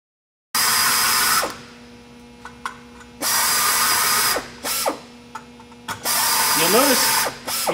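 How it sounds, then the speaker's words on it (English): A countersink drill bit cuts into scrap sheet metal in an aviation sheet-metal class, heard as several short, loud whirring bursts separated by brief pauses, with faint clicks and motor whine between them. "We'd never start countersinking without first setting up our tools on a piece of scrap."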